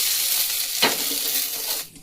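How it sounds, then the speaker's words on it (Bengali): Carrots fry in a mix of white oil and ghee, giving a steady bright sizzle with a brief scrape or stir near the middle, before the sound drops away at the end. "দেখুন গাজরগুলো খুব সুন্দর ভাজা হয়ে গেছে।"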